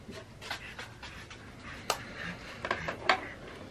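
A Corgi or French Bulldog pants in quick, soft, rhythmic breaths close by, with the flat-faced dog's breathing faintly raspy and no talking.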